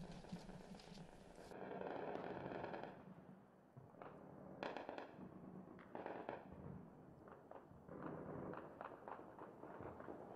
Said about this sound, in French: Les habitants de la capitale libyenne ont entendu toute la nuit retentir des tirs de batteries antiaériennes.